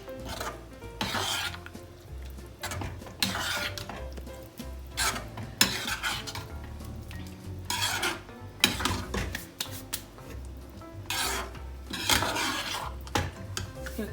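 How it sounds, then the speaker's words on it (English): Dal makhani being stirred in a cooking pot with crumbled kasuri methi, heard as repeated rasping scrapes of a spoon against the metal in an uneven rhythm, up close and without talk. "Give it a mix."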